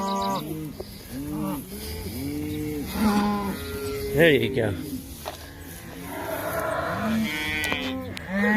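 Several cattle on a farm pasture moo loudly and repeatedly, long drawn-out calls overlapping one another close by, while someone talks briefly among them.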